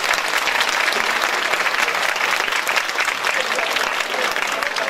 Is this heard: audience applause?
yes